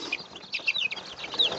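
Young chickens in a pen holding many hens and about fifteen roosters, a small rooster among them, giving scattered close chirps and clucks over a steady busy flock murmur.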